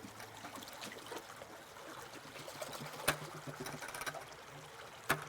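Water trickles and splashes into a gold pan on a highbanker sluice, a steady low wash with a couple of sharp knocks from rocks or the pan.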